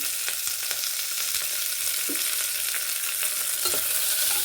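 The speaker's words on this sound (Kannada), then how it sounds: "ಕರಿಬೇವು ಹಾಕ್ಕೊತಾ ಇದ್ದೀನಿ ಈರುಳ್ಳಿ ಹಾಕ್ಕೊತಾ ಇದ್ದೀನಿ" Curry leaves, onion, chopped vegetables and green chillies frying for vegetable pulao give a steady close sizzle, with a few sharp crackles and spoon scrapes against the pan throughout; no one speaks.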